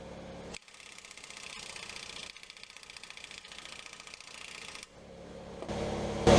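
An impact wrench works on a bolt on a wrecked 1998 Jeep Wrangler TJ, a close buzzing, hammering whir running in bursts with short pauses, loudest at the end.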